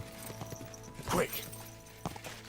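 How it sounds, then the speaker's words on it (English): Horse hooves clip-clop in Kingdom Come: Deliverance II as a light, rhythmic run of hoofbeats under a player's excited talk, with a louder burst in the middle. "What a beautiful horse!"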